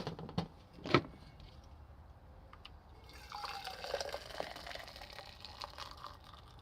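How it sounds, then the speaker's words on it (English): Tea poured into a container inside a campervan, with a couple of sharp clinks at first, then a soft, faint trickle of liquid. "So I pour this one into here."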